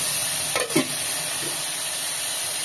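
Garlic, mustard seeds and tomato fry in hot oil with a constant close sizzle, and a couple of quick stirring scrapes come near the start; no one speaks.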